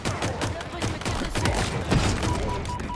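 Rapid gunfire and thumping shots from the Halo Infinite shooter game, dense and loud across the whole moment, with a French-speaking player talking underneath.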